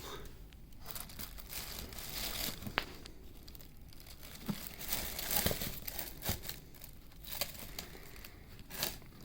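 Faint crinkling and tearing of paper and cardboard packaging from an Air Jordan Retro 11 Bred shoe box, with scattered soft rustles and a few sharper crunches close by.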